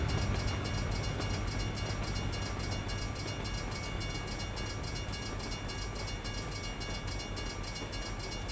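A freight train rolls past on tracks in the American Truck Simulator game, a steady, fairly loud rumble of wheels and rail noise that holds evenly throughout with faint tonal whine above it and no talking.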